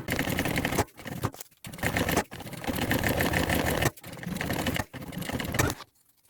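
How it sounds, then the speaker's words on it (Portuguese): A sewing machine runs close and steady while stitching a thermal backpack, sewing in several long continuous runs broken by brief stops. "Vou costurar bem rente aqui a volta."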